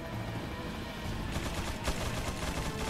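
Faint, distant bursts of gunfire from the Resident Evil 4 video game, scattered shots and short rapid volleys sitting low in the background.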